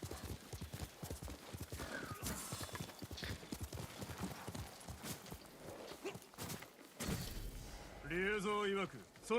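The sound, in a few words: horse hooves clip-clopping in a video game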